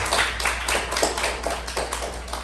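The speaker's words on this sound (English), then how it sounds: "Give them a big round of applause." A small club meeting audience applauds with steady, fairly close hand clapping throughout, without any talk over it.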